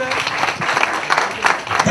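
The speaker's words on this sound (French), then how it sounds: "On applaudit." Audience applause at a fan club launch event in Pointe-Noire, brief and fairly loud, with irregular clapping peaks and faint voices mixed in.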